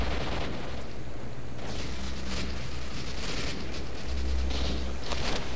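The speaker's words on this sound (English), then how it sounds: "Gunfire." Gunfire in the video game STALKER: Shadow of Chernobyl, a dense, loud, continuous wash of shots and booms with steady rumble and no speech.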